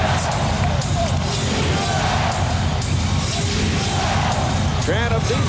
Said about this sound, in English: Chant of defense from this crowd here at Staples.